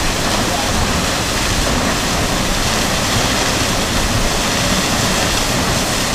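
A steady, loud roar of Svartifoss waterfall in Skaftafell, southern Iceland, broadband rushing water filling the whole clip without pause, close by, with no clear talking over it.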